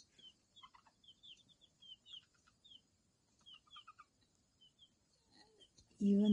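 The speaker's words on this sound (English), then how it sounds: "Even the call is not as that of a regular backyard chicken." Special-breed pet chickens kept in new housing, giving a string of short high chirping calls, faint and scattered, ending in a louder thump or rustle.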